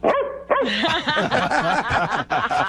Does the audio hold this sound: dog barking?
yes